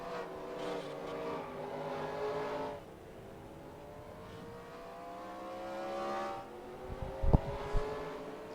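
Race cars circle Darlington in NASCAR Racing 2003, several engines droning and whining in overlapping pitches, rising and falling as cars pass, with a brief thump of contact near the end.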